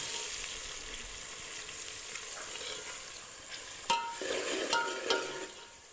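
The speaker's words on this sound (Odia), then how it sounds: "ଏଠି ପିଆଜ ଅଦା ହେଲା ପରେ ଲଙ୍କା ପଡ଼ିଯାଇଛି ପିଆଜରେ।" Onion, ginger and chili sizzling in hot oil in a pan for a chicken dish, a steady close crackle with a few sharp clinks of a spoon stirring near the end.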